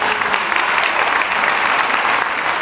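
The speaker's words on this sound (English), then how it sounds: "so round of applause for you guys." Audience applause fills a school convocation hall, a steady, dense wash of many hands clapping throughout, loud and close with no pauses.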